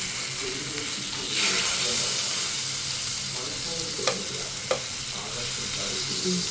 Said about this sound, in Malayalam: മീന് തിരിച്ചിട്ട് കൊടുക്കുകയാണ്.